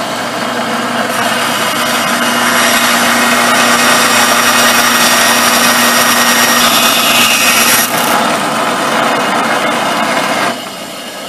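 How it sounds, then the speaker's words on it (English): Power saw cutting a width of wood for a hammer handle, a loud continuous whining buzz that holds steady for about ten seconds before the blade winds down. "Let me cut the width on it now."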